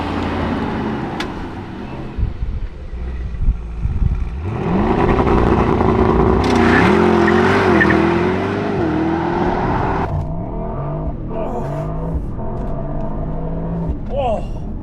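Mercedes-AMG GT63 S E Performance V8 hybrid with 816 horsepower accelerating hard, a loud rising engine roar with gear-change steps and a rumbling, varying tone, while people talk over it.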